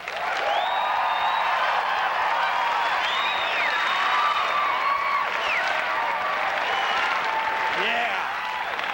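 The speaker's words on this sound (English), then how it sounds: "let's hear a nice big Colorado round of applause right now" Sustained, loud applause from a large audience during a sound check, with a few cheers and voices rising through the steady wash of clapping.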